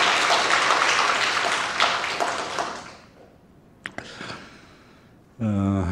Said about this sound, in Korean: 박수로 한번 격려해 주시고